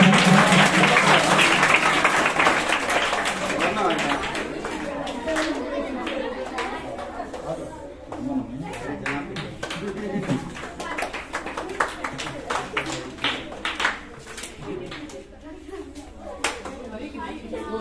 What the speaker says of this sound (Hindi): सभी अच्छे ताली बजाकर उत्साह करें